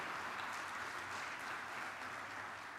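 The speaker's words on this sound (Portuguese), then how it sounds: "Dá um aplauso para o Espírito Santo." A church congregation applauds together, a dense, steady wash of clapping from many hands sustained throughout without a break and with no voices on top.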